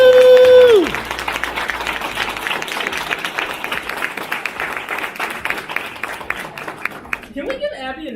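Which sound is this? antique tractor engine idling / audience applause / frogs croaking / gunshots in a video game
audience applause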